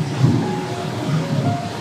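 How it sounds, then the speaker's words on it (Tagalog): Heavy rain pouring down steadily in a dense, even wash of noise, with a low rumble underneath and no voices. "kasi lakas ng ulan. Grabe oh."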